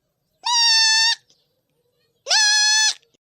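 A village goat gives two long, clear bleats, loud and close, separated by a second or so of near silence, with no one speaking.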